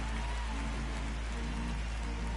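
Steady, dense rain falls in a baseball video game simulation of the Phillies at St. Louis, a constant hiss and patter with no voices.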